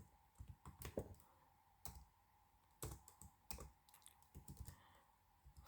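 Typing on a computer keyboard gives irregular bursts of crisp, close key clicks, quiet and alone with no talk.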